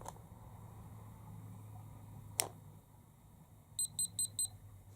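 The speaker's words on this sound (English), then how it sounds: "you can hold it in until it goes beep beep beep beep" Hawkeye Firefly 2 action camera emitting four short, evenly spaced electronic beeps as it is held to power off, clear and close over faint background hiss, preceded by a single click.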